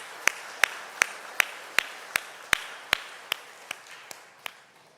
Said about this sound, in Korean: 우리 찬양대와 현악관 위에 격려의 박수 주시기 바랍니다.